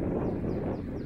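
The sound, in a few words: wind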